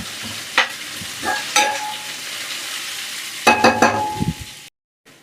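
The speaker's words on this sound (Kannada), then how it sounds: "1 ರಿಂದ 2 ನಿಮಿಷ ಮತ್ತೆ ಈರುಳ್ಳಿನ ಫ್ರೈ ಮಾಡ್ಕೊಳ್ಳೋಣ" Chopped onions frying in oil with a mustard tempering for radish palya, a steady close sizzle punctuated by sharp scraping stirs of a ladle against the pan, with clusters of quick strokes toward the end.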